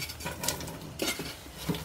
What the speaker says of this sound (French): Maintenant, je vais mettre mes oignons que j'ai tous émincés.